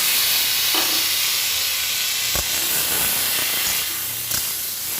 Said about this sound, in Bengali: ভালো করে নেড়ে নেড়ে ভেজে দিব সবজিটাকে